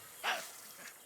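A single short, hoarse bark, faint and quick, followed by a softer trailing huff.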